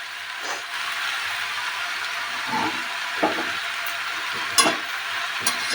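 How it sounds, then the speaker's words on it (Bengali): Water spinach with jackfruit seeds cooking in a pan over low flame, a continuous soft sizzle with occasional scraping stirs and a few sharp clinks of the utensil, heard close and without speech. "দেখুন একটু শুধু নেড়ে রাখবেন যাতে নিচে না লেগে যায়"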